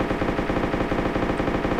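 Rapid automatic gunfire in the Armex video game, a steady stream of shots repeating evenly throughout at a loud, constant level with no talk.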